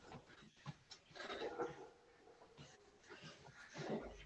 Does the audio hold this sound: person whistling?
no